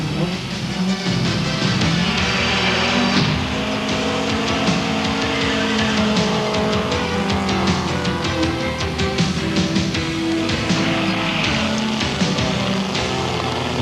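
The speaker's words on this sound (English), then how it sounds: "We'll take this curve here. You've noticed that I never touched the brake, actually. Just you brake by sliding." A rally car takes a curve on a gravel stage from Calgary to Pincher Creek, Alberta, sliding instead of braking; the engine roars loud and close, with tires scrabbling and a sustained high revving note.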